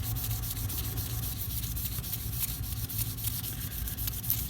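Steady abrasive rubbing of 2000 grit sandpaper over a Victorinox Executive pocket knife, a continuous close, even scratchy hiss with a quick back-and-forth texture and no pauses or voices.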